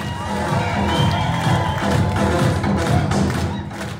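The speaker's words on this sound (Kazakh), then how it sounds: "Нұрекеңе шапалақ қалай болады екен?" A festive crowd at a Kazakh family celebration, a circumcision and baby-naming feast, claps steadily for an honoured guest, with dense continuous applause, thumping and some cheering sustained throughout.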